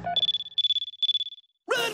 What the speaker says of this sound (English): That's the phone, Denzel!